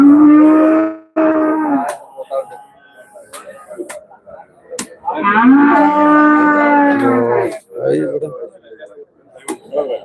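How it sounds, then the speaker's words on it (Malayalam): Cows and bulls at the Manjeri cattle market low loudly and close by, several long drawn-out moos separated by pauses, with people talking in between. "പശുണ്ട്, കാളാരുണ്ട്."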